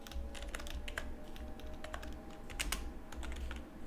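A computer keyboard clatters with quick, uneven keystrokes, close and fairly quiet, as a Dart test is typed out, with no voice over it.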